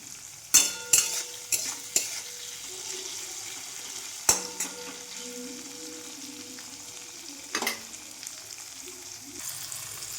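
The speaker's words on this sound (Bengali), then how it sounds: "ক্যাপসিকামগুলো ভেজে নিয়েছি" Capsicum frying in a pan, with a steady soft sizzle punctuated by a few sharp clatters of a utensil scraping and stirring against the pan, and a quieter stretch of frying in between.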